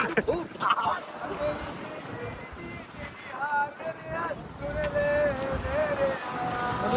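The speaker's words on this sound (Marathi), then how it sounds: "खूप डेंजर हवा आहे. डेंजर हवा आहे इकडे तुम्ही बघू शकता." Strong wind on the Khandala ghat buffets the microphone with a rough, gusting roar throughout, rising and falling, while someone talks over it and other sounds are heard in the distance.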